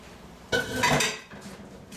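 A metallic clatter and scrape of a metal cake pan being handled as fruit cake batter is poured, lasting under a second, then a softer clink, close and fairly quiet.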